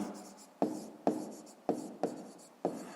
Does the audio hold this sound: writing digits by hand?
yes